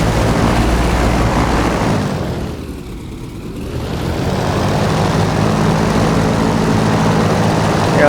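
A propeller plane taxis in the DCS flight simulator, its engine droning loud and continuous, briefly dipping in intensity and then swelling back to a full, rough roar.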